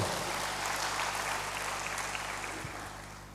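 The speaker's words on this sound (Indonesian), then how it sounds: "Berikan tepuk tangan bagi Tuhan." A church congregation claps in praise to God during a worship service, a dense, continuous patter of hands that stays strong and slowly fades toward the end.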